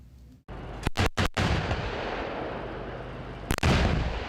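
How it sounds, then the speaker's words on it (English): K2 tanks and K9 howitzers fire during a choreographed military demonstration on a hillside in the South Korean countryside: a loud cluster of sharp blasts, another heavy boom later, and dense rumbling battlefield noise in between, no voices. "A highly choreographed attack on a hillside in the South Korean countryside. K2 tanks, K9 howitzers, Apaches and drones."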